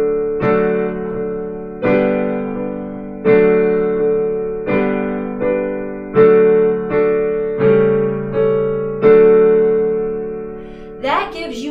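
Solo piano interlude for a children's sing-along of a mitten song and Twinkle Twinkle Little Star, with sustained chords struck about every second and a half in a steady, moderately loud pattern and no singing.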